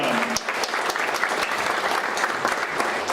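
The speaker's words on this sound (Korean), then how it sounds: "여러분 큰 박수로 환영해 주시기 바랍니다" Loud, dense applause from a large audience in a National Assembly hall at a Saenuri Party forum welcoming arriving officials, a continuous roar of clapping with a brief low tone near the start.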